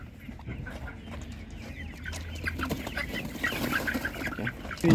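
Young roosters clucking close by at an animal market, several birds over a low murmur of market noise, with one loud squawk near the end.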